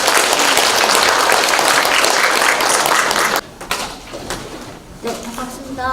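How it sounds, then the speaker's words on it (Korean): Audience at an academic conference hall in Korea applauds warmly for about three seconds, then the clapping cuts off, leaving a quieter room with a few scattered taps and a voice starting to speak. "큰 박수로 모시겠습니다."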